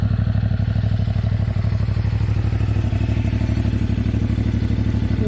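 A CF Moto 450 MT motorcycle running at a steady pace, its engine a loud, close, even drone with a rapid regular pulse throughout, no voices.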